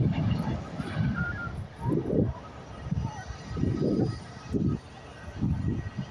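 A plain white-liveried airplane lands at Edinburgh Airport, its engine roar steady and fairly loud at a distance, swelling in rhythmic low surges with some wind buffeting the microphone.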